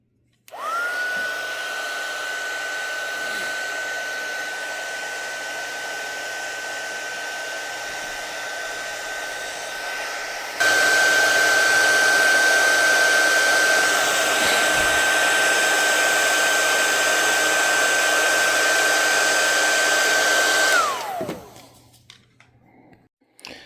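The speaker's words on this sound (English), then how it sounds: "Just tightening this up in case anybody is wondering. This is a 9/16 that is on the WARN solenoid." Power tool tightening a 9/16 nut on a WARN winch solenoid during a bumper install on a 2025 Toyota 4Runner Trailhunter, a continuous loud whine that steps up in intensity midway and then winds down.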